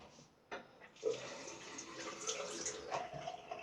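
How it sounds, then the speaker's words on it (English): Water runs from a tap to rinse shaving lather off a razor blade, a steady splashing gush starting after a brief knock, fairly faint and close, with light clatter as the blade is moved under the stream. "A little drop of water has meant that all the lather is just easily rinsing off my blade"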